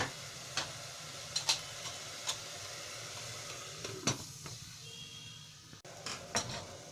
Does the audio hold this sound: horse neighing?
no